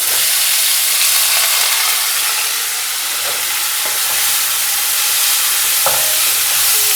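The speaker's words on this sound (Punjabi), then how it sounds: "ਜੀਰਾ ਆਪਣਾ ਭੁੰਨ ਚੁੱਕਾ ਹੈ ਤਾਂ ਇਸ ਨੂੰ ਪਾ ਦਿੰਦੇ ਹਾਂ" Finely chopped onions sizzling loudly in hot oil with roasted cumin seeds, a dense steady frying hiss with occasional scrapes and clinks of stirring, close up and without talk.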